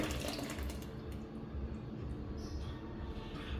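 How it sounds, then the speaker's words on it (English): Liquid for homemade wine is poured into a pot in a steady splashing, rushing stream, fairly quiet and continuous, with a faint low rumble beneath. "So I'm gonna pour it now within the pot here."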